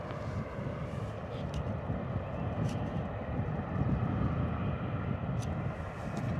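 An EasyJet Airbus A320 taxiing at Bristol Airport after a rejected takeoff, its jet engines a steady, broad roar heard from a distance, with wind buffeting the microphone throughout.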